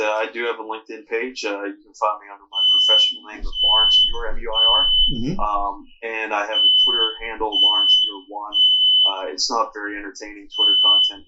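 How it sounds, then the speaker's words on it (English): Smoke alarm beeping in the home where a podcast about cybersecurity and law is being recorded, thin repeated high tones under steady conversation between two people. "That's our smoke alarm, folks."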